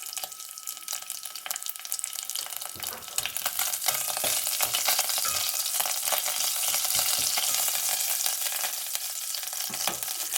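Garlic fries in a pan for pasta e ceci alla romana, giving a steady, bright sizzle that builds after a few seconds and carries on continuously at close range, with scattered crackles and stirring knocks.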